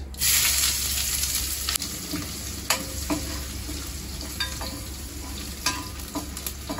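Onions fry in hot oil with cinnamon and bay leaf for pakkoda kurma, giving a steady close sizzle. Occasional stirring clicks and scrapes sound over it, with no talking.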